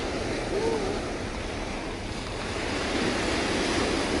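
Waves wash continuously onto a beach beside the Jungri breakwater in Yeongdo, Busan, a steady roar of surf mixed with wind buffeting the microphone.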